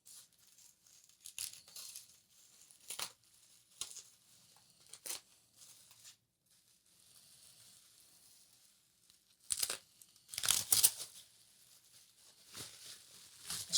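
A Gerber knife slices through heavy packing tape on a comic and action figure parcel: quiet, sporadic crinkling and tearing scratches at close range, with a louder burst of ripping near the end.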